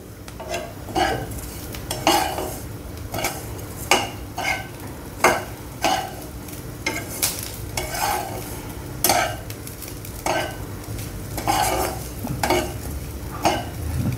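Grated dried coconut dry-roasting in a pan until reddish brown, for a Vidarbha-style brinjal and potato curry, with a spatula scraping and clinking in steady close strokes about once a second over a faint sizzle, no voices.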